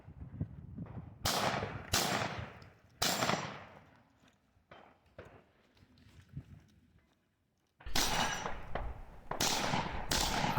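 Pistol shots ring out at a shooting competition, with sharp loud cracks in small clusters, a gap with footsteps and movement, then another rapid string of shots.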